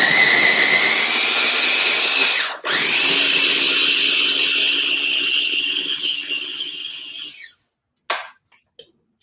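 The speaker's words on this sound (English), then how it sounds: "And that's a food processor you're using?" A food processor whirs loudly as it mashes beans, its motor dropping briefly then surging back, running steadily before cutting off, followed by a few short clatters.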